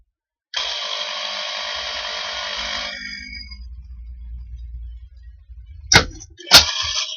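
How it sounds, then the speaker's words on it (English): A steady, high buzzing whine from an electric drill boring through metal for a homemade portable rocket stove runs for a few seconds, then drops into a low, rough rumble. Two sharp clanks close out the clip. "When drilling in iron, metal, or in stainless especially, try to use a drill which goes slowly"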